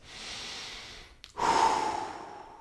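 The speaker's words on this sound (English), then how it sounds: "Take a couple deep breaths." One slow, deep breath drawn in softly and then released in a louder, airy exhale, close up with no talking.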